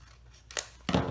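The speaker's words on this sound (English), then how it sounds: "Let me get my longer scissors." Long scissors cut paper for a mini journal, two quick crisp snips close by in an otherwise quiet room.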